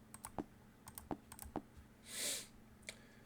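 Keyboard keys tapped to enter a card ID and PIN on a tablet timeclock kiosk, a handful of sharp, close clicks spaced irregularly, with one brief soft whoosh partway through.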